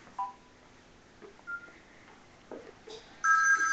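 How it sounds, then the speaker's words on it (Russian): Phone tones sound in a room during a tense standoff at an office in Zaporizhzhia: several short separate beeps, then a steadier, louder ringing tone near the end, with no talking over it. "Опять мне звонят,"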